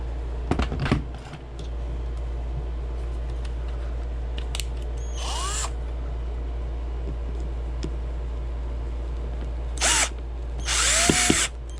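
Power drill driving screws into the underside of a custom seat on a Mongoose-based motorized bicycle, with a couple of short whirring bursts over a steady hum, close and fairly loud.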